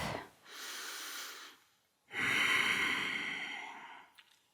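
Deep breathing during a yoga pyramid pose: a slow, close inhale followed by a longer, fuller exhale, soft and airy, with no talking.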